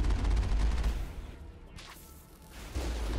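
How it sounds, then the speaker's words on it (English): Combat in Mass Effect rumbles with dense gunfire and missile blasts, a loud low roar that thins in the middle and then swells again with whooshing bursts. "This dance of bullets and missiles and acid spit."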